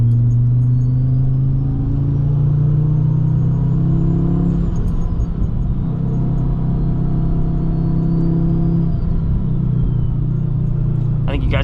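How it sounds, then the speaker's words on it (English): A big-turbo manual Volvo S60R engine idles and rumbles steadily, with faint whooshing and whistling turbo noises rising and falling over the low drone. "I think you guys just want to hear the car, listen to them turbo noises."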